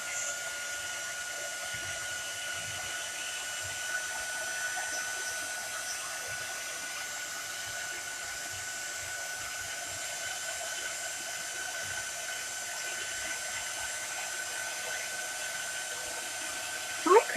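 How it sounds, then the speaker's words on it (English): Heat gun blowing steadily for a chalk craft project on pumpkins, a constant loud airy whoosh with a high whine that holds for the whole stretch, ending in a brief clatter. "I'm going to turn my heat gun on, which means it's going to get a little bit loud"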